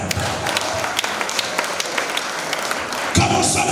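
Church congregation applauding at a sermon, a dense patter of many hands clapping steadily close by, swelling briefly louder near the end.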